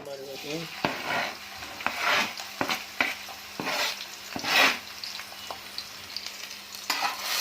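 Chopped green onion frying in oil on a tawa while being stirred, a steady sizzle broken by repeated scraping and clacking of a spatula against the metal, close and with no talking.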